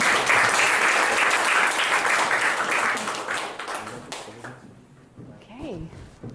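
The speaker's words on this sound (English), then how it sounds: "we're going to use a round of applause to welcome our panelists" An audience applauds to welcome panelists onto the stage at an entrepreneurship event in London, dense clapping at first that thins and fades out as a few voices start to talk.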